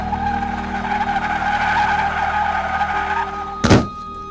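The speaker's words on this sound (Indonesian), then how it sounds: "tubuh penuh luka itu terpelanting sejauh 5 meter ke depan oleh mobil angkutan yang tiba-tiba lewat." A passing minivan screeches its tyres in a long sustained skid, then a sharp, heavy thump of impact lands near the end of the skid, loud and close.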